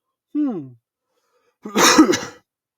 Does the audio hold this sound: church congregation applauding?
no